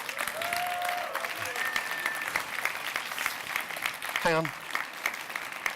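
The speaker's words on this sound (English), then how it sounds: "Give yourselves all a big round of applause." An audience at the European Youth Award Gala 2014 applauds in a sustained, even wash of clapping, with a brief spoken voice over it.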